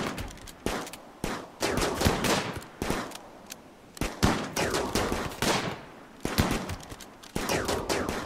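Game gunfire from RimWorld cracks out in rapid, repeated bursts and single shots, dense and continuous over several seconds with no talking.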